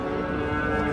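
A single low cow moo, close and fairly loud, droning briefly on its own at a livestock market.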